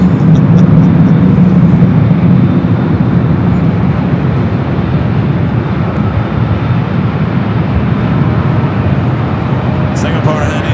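A Singapore Airlines airliner arriving at LAX from Tokyo Narita, its engines a loud, steady broadband roar that fills the whole stretch without letting up.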